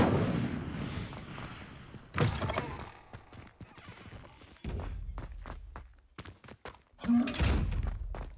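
Incendio fire spell cast in Hogwarts Legacy, a string of thumping, booming bursts with crackling whooshes, several heavy impacts spaced across the clip, loud and close with game effects layered over them.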